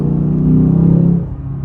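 A 2022 Lexus RC F engine revs toward its redline just under 7,500 RPM, a loud, close, rising drone from inside the car that holds and then drops off near the end.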